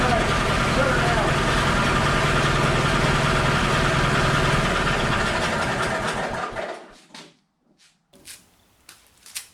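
The engine of a 1982 Bush Swamper idles with a steady low rumble, then cuts out after about six seconds, leaving near silence broken by a few faint clicks and knocks.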